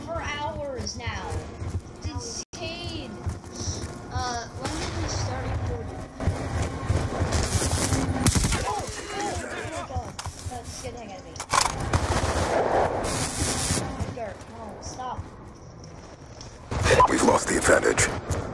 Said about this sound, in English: We've been shooting for hours now.